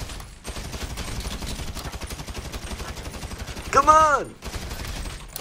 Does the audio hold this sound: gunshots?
yes